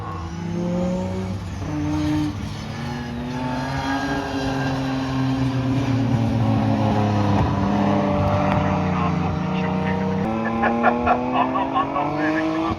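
A drifting car at a Tunerfest North drift event at Oulton Park, its engine revving hard and holding high as the tyres squeal, loud and close, rising and falling through the slide.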